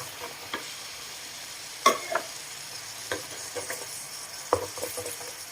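Papaya and egg stir-fried in a pan, a steady soft sizzle broken by several sharp scrapes and clicks of the utensil against the pan, close and alone with no talk.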